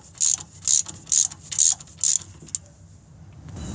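A ratchet clicks in five quick, evenly spaced bursts close up while front hub bolts are tightened on a GMC Envoy, then goes quiet.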